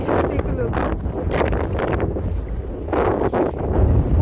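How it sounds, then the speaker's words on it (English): Strong gusting wind in open North Iceland countryside buffets the microphone with a constant loud roar and rumble, while a person speaks briefly over it. "The wind is completely bashing us up."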